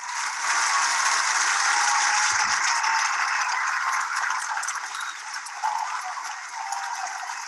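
An audience at an award event for research breaks into sustained applause, a dense, even wash of many hands clapping that holds steady at full volume throughout with no voices over it.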